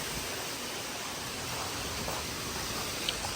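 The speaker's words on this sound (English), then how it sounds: "Okay, here's some gusts." Hurricane Helene wind gusts sweep across the Florida Keys as a steady, full roar of rushing air that swells slightly, with no voices.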